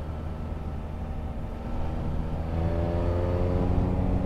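Triumph Speed Triple RS motorcycle engine droning steadily while riding, with a low continuous hum and rising harmonic tones as it pulls harder toward the end; no talk.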